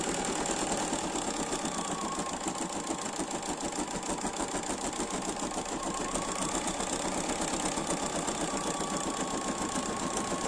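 A Bernina 780 embroidery machine stitches steadily, a continuous fast mechanical whir and rapid needle patter holding at an even, moderate level throughout with no pauses and no talking.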